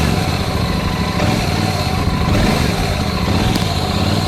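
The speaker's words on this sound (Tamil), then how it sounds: "ஸோ ஜஸ்ட் வண்டியை ஸ்டார்ட் பண்ணி காட்டுறேன்." A Royal Enfield Super Meteor 650 twin-cylinder motorcycle runs close by after starting, its engine giving a steady, loud thrumming beat with no pause.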